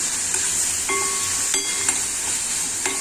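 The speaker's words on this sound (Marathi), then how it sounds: "त्याच्यात मसाला पण परतून घ्यायचे आपले सगळे।" Masala spices sautéing in a pan on low heat for a Malvani-style dried shrimp dish, a steady sizzle with a few soft stirring scrapes and clicks, close and alone.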